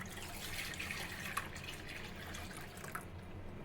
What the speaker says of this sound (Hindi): अब जार का सारा पानी इसमें डाल देंगे